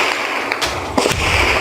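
Loud gunfire cracks during a police operation in a residential hillside neighborhood, a few sharp reports close together over steady background noise, with no talking.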